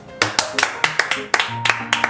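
A small group claps briefly, a few scattered, uneven claps close by, with no voices heard.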